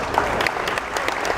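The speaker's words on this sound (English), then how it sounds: "He gets a round of applause as he's able to bring himself to his feet and tries to walk it off" Crowd applause in a gym during a boys high school basketball game, a short burst of many hands clapping at moderate volume.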